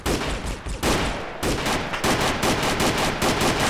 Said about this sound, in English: I don't understand why you guys shooting the floor, it's actually very intimidating.